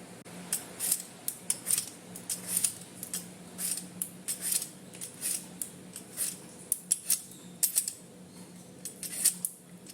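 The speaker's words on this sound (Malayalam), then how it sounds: "ഇപ്പം ഞാൻ ഈ ഒരു മാങ്ങ തൊലി കളഞ്ഞിട്ട് ചെറിയ കഷ്ണങ്ങളായിട്ട് മുറിച്ചെടുക്കാം." A knife peeling a green mango, making quiet, close, repeated short scraping strokes in an irregular rhythm.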